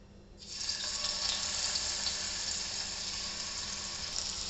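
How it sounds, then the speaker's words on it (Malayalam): Half a kilo of fish lands in hot coconut oil in a pan for a fish masala, setting off a sudden, loud, steady sizzle that hisses on unbroken to the end. "ഇനി ഇതിലേക്ക് ഞാൻ ഈ മീനിട്ട് കൊടുക്കുകയാണ്."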